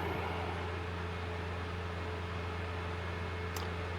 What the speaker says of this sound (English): So even when I've stopped the car, I can still run the fan.